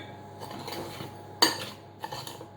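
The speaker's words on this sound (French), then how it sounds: "Toujours avec ma cuillère à soupe, je remue." A tablespoon stirring brown sugar into vegan chocolate cake batter in a bowl, soft scraping strokes with one sharp metallic clink and a lighter tap afterward, quiet and close.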